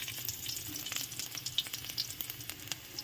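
Garlic frying in cooking oil in a pan gives a close, steady, quiet sizzle with soft crackling pops scattered throughout.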